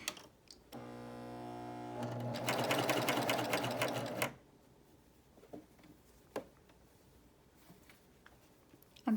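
A Baby Lock Euphoria coverstitch machine runs in a steady, close burst of a few seconds, speeding up into a dense mechanical whir before stopping, followed by quiet handling clicks.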